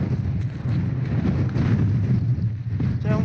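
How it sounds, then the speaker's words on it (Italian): Strong, cold wind at the end of a long solo motorcycle trip to the North Cape buffets the microphone in a steady, loud, low roar with no pauses. "C'è un vento pazzesco, mi volerà anche il cappello"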